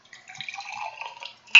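A small shot of sake pours in a soft, brief liquid trickle with light dripping, close and quiet, ending in a sharper splash-like clink.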